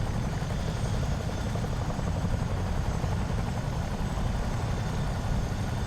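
A Miltech CH-47D Chinook tandem-rotor helicopter in the flight simulator game MSFS 2024 produces a steady, loud, unbroken rotor and engine drone that holds evenly throughout, with no talking.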